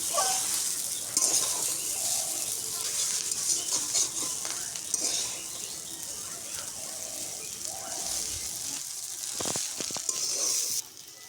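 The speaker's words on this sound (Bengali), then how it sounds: "এভাবে নেড়ে নেড়ে সব জায়গায় মিশিয়ে নেব" Chicken chow mein with spices tossed and stirred in a frying pan, a steady loud sizzle with repeated scraping stirs and occasional utensil knocks, close up throughout.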